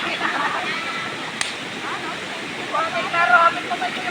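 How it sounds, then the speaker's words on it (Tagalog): Strong floodwater rushes past in a loud, steady broadband roar that holds throughout, with faint voices beneath it. "ganiha grabe siya kakusog ang baha"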